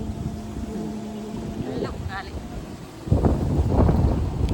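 Strong wind at a hilltop temple buffets the microphone in a steady low roar. The rumble swells into heavier gusts in the second half.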